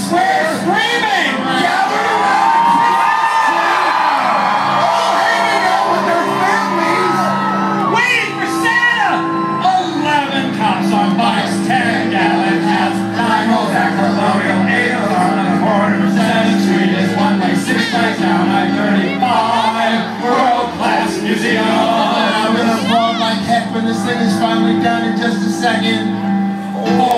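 A dense, loud roar of thousands of fans screaming and cheering in Sundance Square, Fort Worth, at a Christmas-season celebration, with shouts and whoops running continuously throughout.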